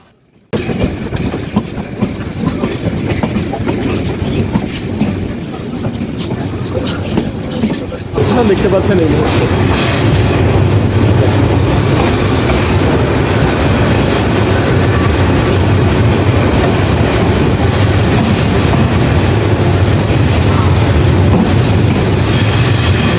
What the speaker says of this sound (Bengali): চট্টগ্রাম রেলওয়ে স্টেশনে পৌঁছে গেছে আন্তনগর মহানগর এক্সপ্রেস ট্রেন